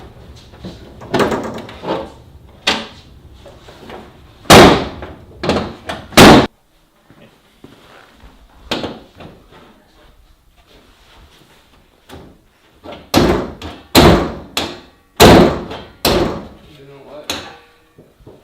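Subaru drift car hood with a broken latch repeatedly slammed shut, a string of loud hollow metal bangs in clusters with pauses between, close, with brief talking in between.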